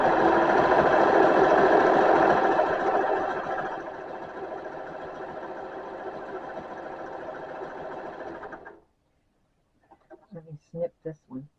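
A serger sews a rolled hem on Thanksgiving napkins, running loud and steady with a fast mechanical whir for several seconds before stopping abruptly. A voice briefly speaks afterward.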